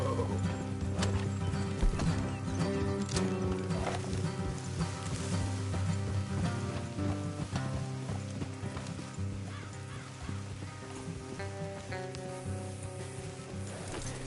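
Horses clip-clop along in Red Dead Redemption 2, with irregular hoof beats, a snort or whinny and creaking tack mixed over a dense game soundscape of ambience and music, no talk.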